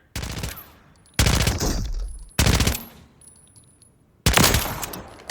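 AMR9 rifle in Call of Duty Modern Warfare III firing four separate bursts of rapid shots, loud and close, each burst ringing out briefly before the next, with no voices over them.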